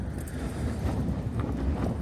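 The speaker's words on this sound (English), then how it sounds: "But oh man, this wind is just horrific." Strong storm wind gusting at 37 to 38 mph buffets the microphone at a wild campsite in Scotland, a steady, heavy low roar, with no voices.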